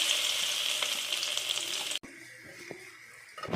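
Carrots dropped into hot oil in a kadai on the stove, a loud, dense sizzle that cuts off abruptly midway, leaving a quieter crackle with a few faint clinks.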